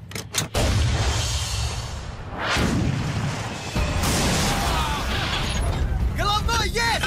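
A tank cannon fires in a WWII war film: a loud blast booms out with a heavy rumble, followed by mechanical clanking and a second whooshing boom, while someone briefly shouts commands in Russian.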